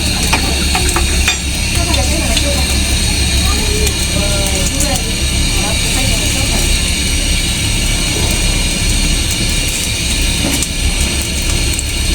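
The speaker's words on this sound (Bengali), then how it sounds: "আমি কড়াইটা বসায় দিচ্ছি তেলটা দিয়ে দিচ্ছি" Hot oil sizzling steadily in a kadai on the stove, a dense continuous frying hiss with faint stirring clatter, close and loud throughout with no talk over it.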